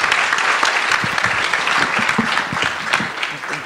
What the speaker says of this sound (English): Give the panelists a round of applause